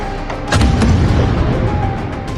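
An explosion rips through a multi-storey building in Saratov during an attack, a loud booming blast followed by sustained low rumbling, heard amid outdoor noise.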